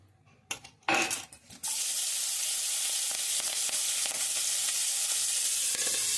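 A few clattering knocks come first, then vegetables hit hot oil for a brinjal curry and break into a loud, steady sizzle and crackle that holds to the end.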